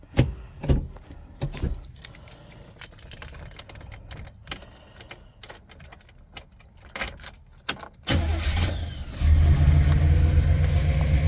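Keys jingle near a 1968 Oldsmobile Delmont 88, then its engine cranks, catches and settles into a loud, steady, rumbling idle for the last few seconds.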